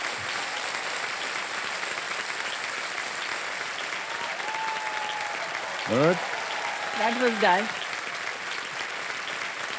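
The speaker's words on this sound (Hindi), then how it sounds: "जोरदार तालियां" A studio audience on the KBC quiz show set claps steadily and loudly throughout, a dense, even wash of applause with a couple of voices speaking briefly over it.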